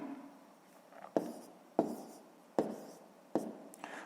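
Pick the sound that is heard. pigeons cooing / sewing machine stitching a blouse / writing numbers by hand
writing numbers by hand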